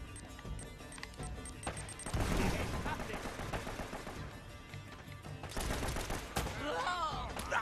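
Gunfire in Uncharted: Drake's Fortune, bursts of rapid shots and crashing impacts, loud and dense after the first two seconds, with voices and game sounds mixed in.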